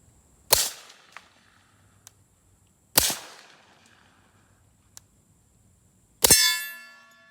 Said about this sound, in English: let's see how it sounds off the steel.